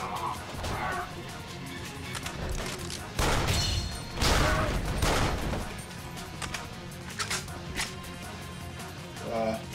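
Bursts of gunfire and crashing effects from the video game Yakuza: Dead Souls, loudest in a dense stretch midway, with scattered shots around it.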